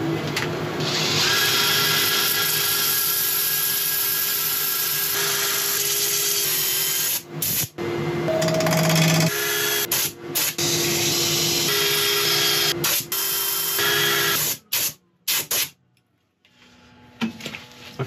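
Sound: sanding a laburnum log on a wood lathe

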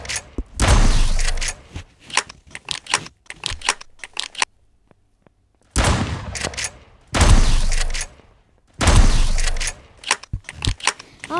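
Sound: pump shotgun firing in video game 1v1.LOL

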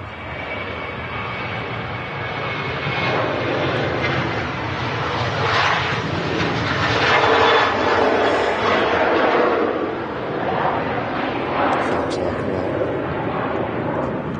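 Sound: Sun Express airliner passing at Manchester Airport

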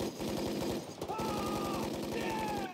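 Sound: movie gunfire during ambush scene in Tropic Thunder

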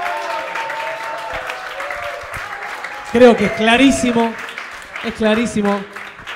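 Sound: audience applause

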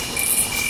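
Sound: insects buzzing in a forest

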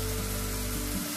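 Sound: grasshoppers frying in oil

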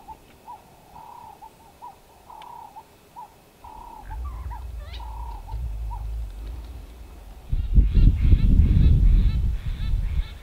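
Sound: flock of southern ground hornbills

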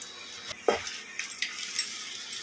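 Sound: stirring and frying rice with ginger paste in a pan

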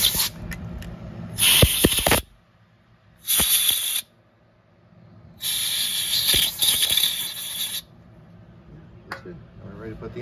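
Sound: compressed air blowing brake cleaner off a part

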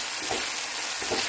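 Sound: garlic and onion sautéing in a pan

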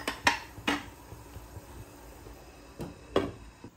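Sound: lid being placed on a cooking pot

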